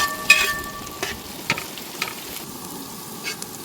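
Onions frying in a pan are stirred, sending a steady soft sizzle under a series of sharp scraping strokes that come about every half second, close up.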